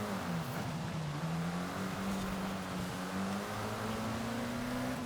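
A car drifts in the video game Forza Horizon 5 during a seasonal championship race, a sustained engine drone with a sliding pitch and continuous tire noise, steady and fairly quiet with no talk over it.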